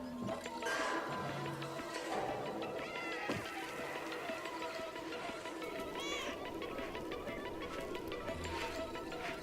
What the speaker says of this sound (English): It's that game where you play as a stray cat.